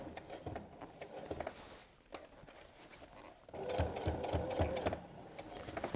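A sewing machine stitches an apron seam in quick rhythmic bursts, pausing and then running faster with a busy mechanical patter, close by and moderately loud.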